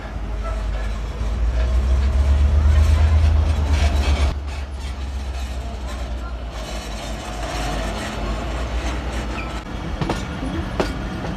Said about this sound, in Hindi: लोकोमोटिव की जोरदार विसल और ट्रेन के व्हील घूमना शुरू हो गए।